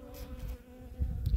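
Honey bees buzz at an open hive during an inspection, a close, dense, continuous drone that swells and fades as the insects move near.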